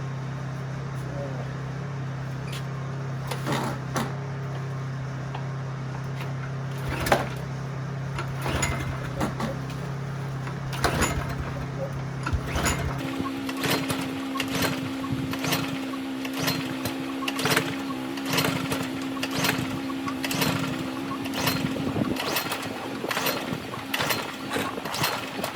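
A cold Craftsman engine being started: a steady mechanical drone with rattling clicks runs throughout, then steps up to a higher, busier pitch about halfway through as it picks up.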